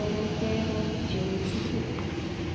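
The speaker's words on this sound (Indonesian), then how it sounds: "kereta api Jayakarta tiba di stasiun Jombang" Jayakarta passenger train pulling into Jombang station, a steady, loud rumble of rolling rail cars with a faint squeal near the end and no talk.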